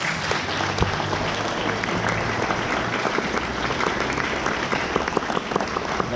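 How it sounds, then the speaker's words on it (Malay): Steady applause from a school audience clapping for the teachers at a closing ceremony for National Month, dense and continuous with no talk over it. "Beri tepukan pada cikgu-cikgu."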